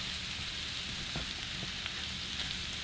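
Empanada filling ingredients frying in a pan give off a steady, even sizzle with a few faint pops and crackles and no voices.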